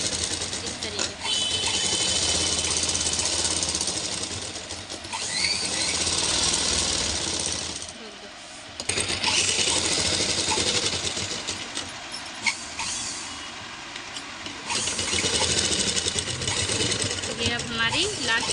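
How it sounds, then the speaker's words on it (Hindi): A sewing machine runs a long seam along the edge of a blouse, a loud continuous whirring chatter that pauses briefly partway through and resumes, with a voice talking over it. "ये पूरा लास्ट तक लगाएंगे हम ये सिलाई"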